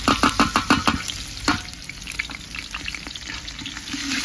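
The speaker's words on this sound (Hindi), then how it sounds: "यहाँ पे देखिए हल्का हल्का जो है प्याज और लहसुन ब्राउन होने लग गए हैं।" Onion and garlic frying on a wood-fired stove give a close, steady sizzle, opening with a quick run of rhythmic scraping stir strokes and then settling into a crackling hiss with scattered pops.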